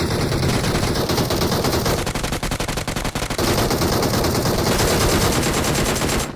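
Rapid, continuous bursts of automatic gunfire in the mobile game BGMI rattle loudly and nonstop for several seconds, with only brief dips in the stream of shots.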